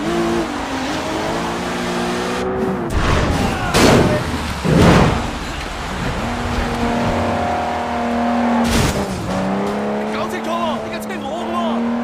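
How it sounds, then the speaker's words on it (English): Car engine revving with tire squeal and thuds during a vehicle hijack in the Sleeping Dogs video game, loud and close, with game voices talking over it. "So you can take over the car, knock out the driver, which leaves Calvin in the trunk"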